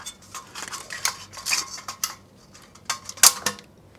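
Metal fan clips being pried off a DeepCool CPU cooler: a close, irregular run of sharp clicks, scrapes and rattles, with one loud snap near the end and no talking.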